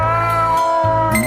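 A stock cat meow from the video game Tevi plays as a single clear, loud, drawn-out mew with a bright harmonic tone, lasting about a second over steady game music.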